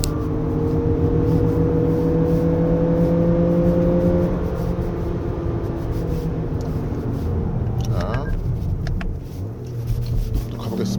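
A 2024 Lexus RX500h F Sport Performance drives hard along a winding road, its engine droning and rising in pitch under acceleration, then easing with a gear shift near the end, heard from inside the cabin.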